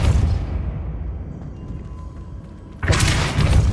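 Depulso spell cast in Hogwarts Legacy, with a heavy booming thud and bright burst rising near the end after a quieter low rumble, close and loud, no talk.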